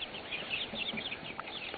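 North Holland Blue cockerels cluck and chatter in a brief burst of soft, close calls, with no talking.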